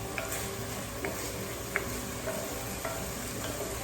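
Onions and peppers sizzle in a pan as the base of a bolognese sauce, a steady close frying hiss broken by light stirring clicks and scrapes, with no voices.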